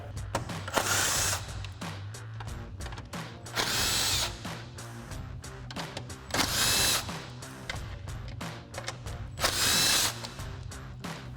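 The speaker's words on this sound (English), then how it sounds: "So we'll grab our 10mm socket and extension on our impact and run these out." An impact driver with a 10mm socket and extension runs out the grille screws on a 2021-2023 Ford F-150, four loud whirring bursts spaced a few seconds apart with tool handling clicks between them.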